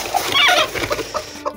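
A hen in a tribal village farmyard, clucking in short, close, irregular bursts, with no talk alongside.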